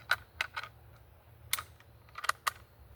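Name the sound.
cartridge loaded into a Carcano rifle bolt and closed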